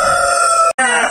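Wyandotte chickens in a breeder house let out a loud, close, drawn-out crowing call, briefly broken by a short gap before the sound resumes.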